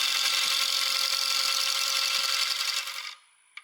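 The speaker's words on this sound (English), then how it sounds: "We are finally into final turning." A wood lathe spins an open segmented lamp base of over 500 segments during final turning, giving a loud steady whir with a scraping hiss that cuts off near the end, followed by a couple of faint knocks.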